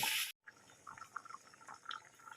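Water goes into a pan of ghugni, a boiled pea curry. A short, loud splash of pouring is followed by a quiet stretch of soft bubbling pops.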